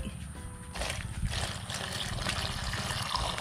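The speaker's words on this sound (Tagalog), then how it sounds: "Lalagay lang tayo ng tubig." Water poured into a cooking pot for making a giant suman rice cake outdoors in the countryside, a steady rushing splash that starts after a quiet moment and continues without a break.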